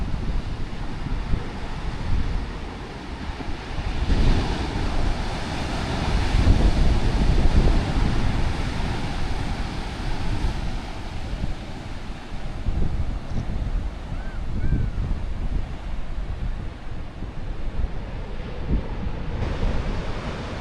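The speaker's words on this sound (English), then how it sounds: "the amount of energy in the waves is simply fantastic" Ocean waves crash against sea arches in a continuous, loud surging roar, swelling and easing over about twenty seconds, with wind buffeting mixed in.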